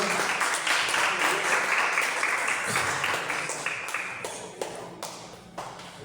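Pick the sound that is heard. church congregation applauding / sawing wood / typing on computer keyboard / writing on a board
church congregation applauding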